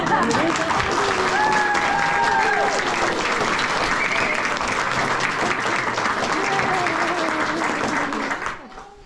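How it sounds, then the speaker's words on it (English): Wedding guests clap loudly and continuously in a full room, the crowd sound holding steady before tapering off at the very end. "I actually said a big round of applause. Come on,"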